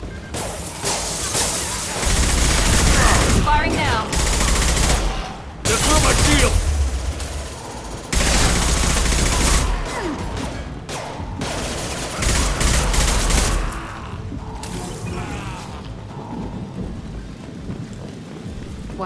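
Gunfire in the Mass Effect 2 video game comes as heavy bursts of rapid shots and rumbling blasts, separated by short gaps, fading toward the end.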